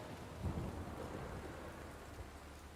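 Rain falling on a courtyard in the video game Shadow of the Road, a steady, quiet hiss of rainfall with a low thunder rumble underneath and no voices.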